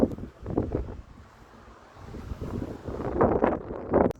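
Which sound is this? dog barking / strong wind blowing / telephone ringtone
strong wind blowing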